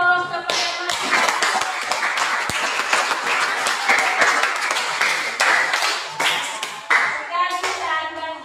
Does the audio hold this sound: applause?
yes